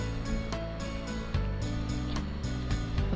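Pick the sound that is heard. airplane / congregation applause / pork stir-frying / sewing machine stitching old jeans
sewing machine stitching old jeans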